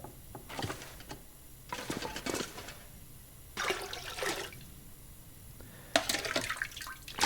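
Toilet water being drunk in The Long Dark survival video game, four separate bursts of splashing, gulping liquid noise spaced a second or so apart, moderately loud over a quiet background with no talking.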